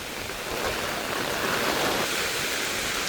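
Floodwater rushing steadily during a cyclone in Sri Lanka, a continuous broad roar of running water, loud and unbroken with no voices.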